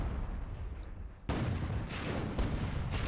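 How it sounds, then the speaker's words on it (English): Rocket and cannon fire in a video game duel: a quiet lull, then a sudden heavy blast at about one second in, followed by a second boom and ongoing rumbling explosions. "These two are just going to have to rocket attack each other now"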